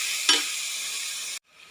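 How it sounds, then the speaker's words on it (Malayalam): Sliced onion dropped into hot oil for Kerala-style chicken perattu gives a sudden loud sizzle that settles into a steady close frying hiss, then cuts off abruptly. "ചൂടായ എണ്ണയിലേക്ക് സവാള ഇട്ട് കൊടുത്തിട്ടുണ്ട്"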